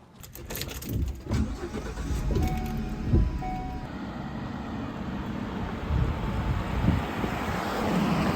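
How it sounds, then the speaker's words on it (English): A camper van fitted with a wind turbine drives on a test run, with the engine starting and then a steady road rumble under heavy wind buffeting against the microphone. "we're going to take this thing for a test drive"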